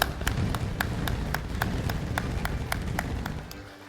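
At a Korean church's New Year's Eve service, the congregation claps in unison right after the midnight countdown, a quick, regular beat of sharp hand claps over a low crowd rumble that eases off at the end.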